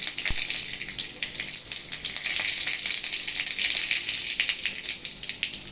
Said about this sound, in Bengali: একটা কড়াইতে সামান্য সাদা তেল নিয়ে ওর মধ্যে শুকনো লঙ্কা ও সর্ষে দিয়ে দেবেন